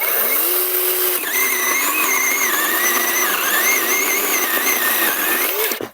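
A Grosser GCS 120SF cordless chainsaw runs loud and close, its motor whining up in pitch and wavering as the load changes, then cutting off abruptly.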